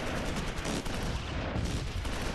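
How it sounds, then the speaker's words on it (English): Dense machine-gun fire, likely an MG42, in the Close Combat IV wartime strategy game, a continuous crackling barrage of overlapping shots with no pauses and no talk. "Sounds like we have like MG42 or something shooting at us"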